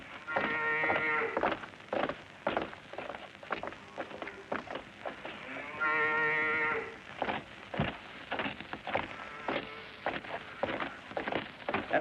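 Cattle in a Normandy farm setting in a 1968 war drama, two long loud close moos stand out against scattered clattering and rustling sounds, with no talk over them.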